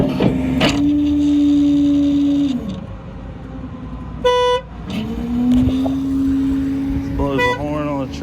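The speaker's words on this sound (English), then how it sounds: "Blows the horn on the truck." A 2012 Ford F550 4x4 mechanics service truck with crane and compressor, its engine running as the horn sounds in a short, loud blast midway, while someone talks over the idling machinery.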